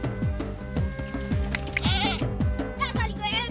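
A goat in a hot desert region bleats again and again in a rapid, wavering series of close, loud cries, with no pause between calls.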